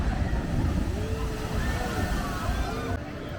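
Sloshing, rushing water from the Journey to Atlantis water ride at SeaWorld as a boat makes its splash, a steady wash of spray and churning water heard from some distance, with crowd voices mixed in.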